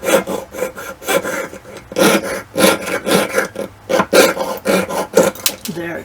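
A jeweler's saw cuts through metal sheet around a drilled hole, loud close rasping strokes in an even back-and-forth rhythm, about a dozen strokes slowing slightly near the end.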